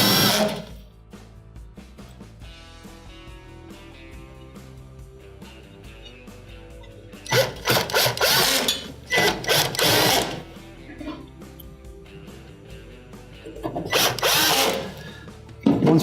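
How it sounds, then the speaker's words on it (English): A power driver spins screws back into the bracket of a KitchenAid microwave in several short, loud whirring bursts, separated by quieter stretches with a faint background hum. "we're now going to go ahead and put the 4 screws we had removed back into the unit"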